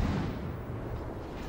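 Naval guns firing blind from a warship in a naval combat game, heard as a heavy, low rumbling boom that slowly fades over about a second and a half.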